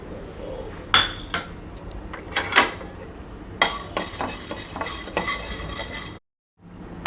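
Coriander, cardamom, cinnamon, cloves, tamarind and sesame dry roasting in a pan for drumstick gravy, stirred with scraping and metallic clinks, moderately loud, with a brief silent gap near the end.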